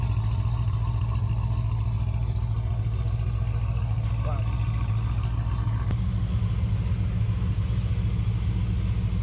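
A 1971 Chevy convertible's engine and exhaust run at a steady, loud idle, a continuous deep rumble close by that stays even throughout.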